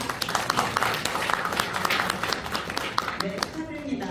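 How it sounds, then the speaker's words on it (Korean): A crowd at a foundation's founding seminar and MOU signing ceremony applauds steadily, a dense patter of many hands clapping throughout, thinning slightly near the end. "여러분 다시 한번 응원의 박수 부탁드립니다."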